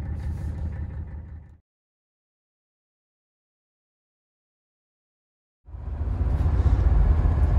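A 1984 Mercedes W123 300 turbo diesel sedan driving, its low engine rumble heard close up in two stretches separated by several seconds of complete silence, louder in the second stretch.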